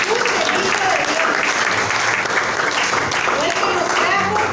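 Church congregation applauding during a Spanish-language sermon, continuous loud clapping throughout with voices blended into the crowd noise.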